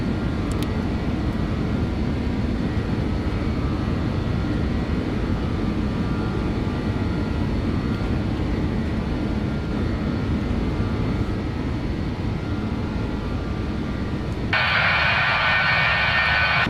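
BAe146 jet engines in a climb in the X-Plane 12 flight simulator, a loud, steady roar that holds throughout, then turns brighter and hissier near the end.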